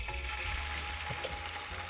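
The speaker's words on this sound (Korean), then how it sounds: "소리 들리시죠? 이게 불이 세면 지지지지 하고 조그라드니까" Egg mixture poured into an oiled, preheated frying pan with the heat switched off gives a faint, steady sizzling hiss, with no voices.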